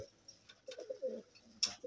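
Pet fancy pigeons cooing faintly nearby in soft, low, warbling murmurs, with a brief higher chirp.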